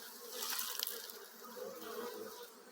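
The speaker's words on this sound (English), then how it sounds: "There's some dark bees there so you know peeps." Dark bees buzz around a hive in a steady, moderately close insect drone that swells slightly early on, with no talking.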